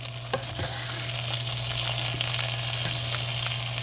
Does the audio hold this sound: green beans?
yes